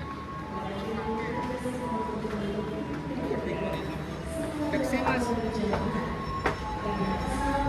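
Argo Lawu train at Solo Balapan station, a steady low rumble of rail cars with faint squeals and clanks, while a person talks over it.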